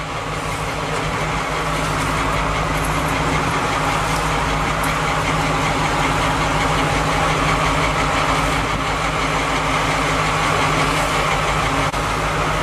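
A fishing boat's engine idles in neutral at sea, a loud, steady, unbroken rumble that runs throughout with no talk.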